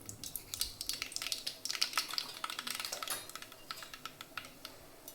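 Mustard seeds crackling and popping in hot oil for chana amti, a dense patter of sharp little pops that thins out toward the end.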